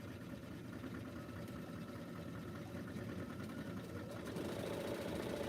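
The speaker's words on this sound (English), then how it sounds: "Now I can sew this on, just a few pins." A home sewing machine stitches a quilt in a steady, unbroken mechanical whir, fairly quiet and close, with no talking.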